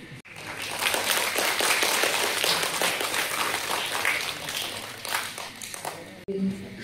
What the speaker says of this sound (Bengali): সবার কাছে করতালি আশা করছি